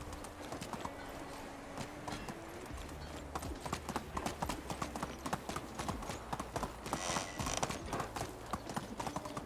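Horse hooves clip-clop steadily and close at a quick pace in the Medieval Dynasty video game, a continuous run of sharp knocks over low background tones.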